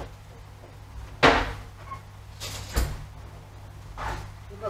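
A drawer in a home kitchen is pulled open during cooking, giving a sharp sliding knock followed by a second thump and a softer rattle. The bumps are close and stand out against quiet room noise.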